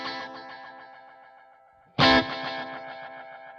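An electric guitar runs through a Space Echo tape delay with all three playback heads engaged, a sustained chord trailing dense repeating echoes before a sharp new strum bursts in and rings out into more cascading repeats.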